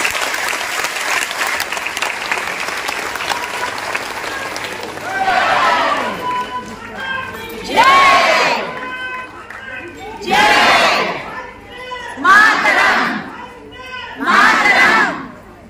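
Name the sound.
audience applause at Patanjali yoga gathering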